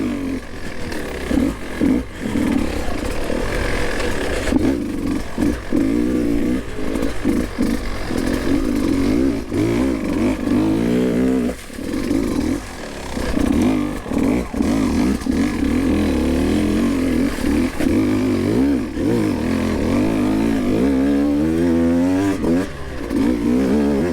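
A Beta 200RR two-stroke dirt bike climbs a hill in second gear, its engine droning steadily and loud close by, with brief revs rising and falling throughout.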